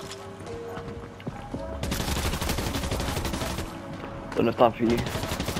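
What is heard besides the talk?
gunshots in a video game shootout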